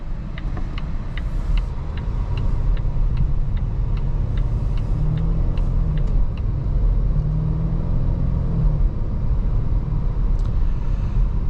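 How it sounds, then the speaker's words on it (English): A 2025 Volvo V60 Cross Country driving on a bumpy back road, heard from inside as a loud continuous low road rumble and engine drone, with a faint rapid ticking early on. "It's been a while since I drove a V60 Cross Country, so this will be a nice reminder of what they're like."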